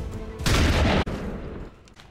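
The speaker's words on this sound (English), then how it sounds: "I can probably just walk up here and kill it casually with my shotgun." A shotgun in XCOM 2 fires one loud, dense blast that holds for about half a second, then snaps off and fades into a low lingering rumble.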